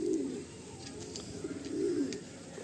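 A Madrasi pigeon with feathered feet coos in low, rolling bursts, one at the start and another near the end, close by against a quiet room.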